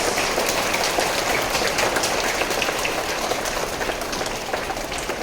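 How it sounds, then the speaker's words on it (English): Students of class 3B at a school Teachers' Day assembly clap together in dense, steady applause that stays even and fairly loud for several seconds, with no talking. "Shall we give a big clap to our class 3B?"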